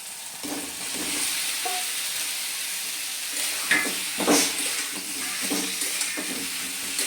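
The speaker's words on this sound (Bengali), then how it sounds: "এবার এই পর্যায়ে আমি এর মধ্যে সিদ্ধ করে রাখা এঁচড়টা দিয়ে দিচ্ছি" Boiled jackfruit goes into hot fried masala, the oil sizzling and hissing steadily while a spoon stirs and scrapes the pan in irregular bursts.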